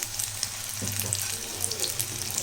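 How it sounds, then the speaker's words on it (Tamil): Capsicum bajji deep frying in hot oil: a steady close bubbling sizzle with scattered crackles and pops continuing throughout, with no voices. "ஒரு பக்கம் நல்லா செவந்து வறுப்பட்டவுடனே நம்ம நல்லா திருப்பி போட்டுடலாம் அந்த பஜ்ஜி"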